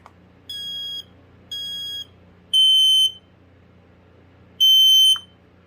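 A FireX 4618 photoelectric smoke alarm running its ramp-up test sounds four short beeping bursts with gaps between them, the last two louder and harsher than the first two.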